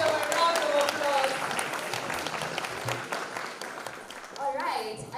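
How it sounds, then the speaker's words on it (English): An audience applauds after a performance at a STEM event, a dense burst of clapping that gradually thins out, with some voices mixed in. "Let's give them a round of applause."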